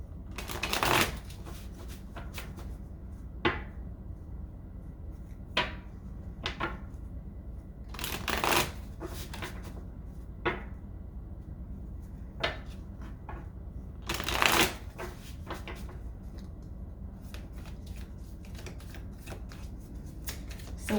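Tarot cards being shuffled for a reading, several quick riffling bursts separated by quiet pauses, close and soft, no talking.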